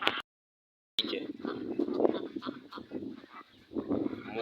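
Mulard ducks on a farm give raspy honking calls close by, broken by a short gap of silence, then continuing in an uneven run of quacks and honks.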